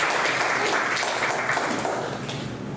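A congregation claps together at a church presbytery New Year ceremony, a brief dense burst of applause that fills the room and fades slightly near the end.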